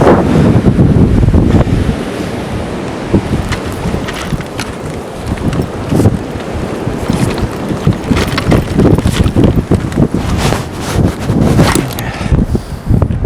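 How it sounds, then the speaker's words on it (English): Strong wind buffets the microphone at a beach with glass pebbles and surf, a loud continuous roar with gusty bursts and rumbling over breaking waves throughout. "this wind is nuts"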